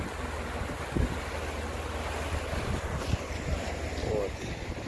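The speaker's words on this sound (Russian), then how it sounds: "ветрено, слышно, не знаю" Steady wind buffets the microphone outdoors by the Aldan River, a constant low roar with occasional gusty thumps.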